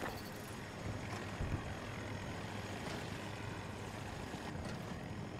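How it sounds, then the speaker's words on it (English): Rotor and engine drone from an MD540 Nightbird attack helicopter in Battlefield 2042, a steady, moderately loud whirring hum with slight swells throughout, no talk. "That's an attack heli."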